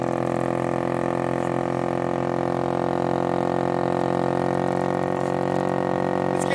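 Heater vent blower motor in a Pontiac Grand Am spinning at high speed, a steady loud whirring hum with strong sustained tones that hold constant throughout, no talk over it.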